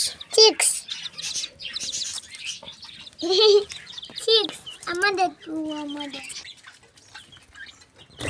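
Pet chicks and pigeons chirp at feeding time, giving thin, high peeps in short bursts with a few longer calls, close by, while a person talks over them.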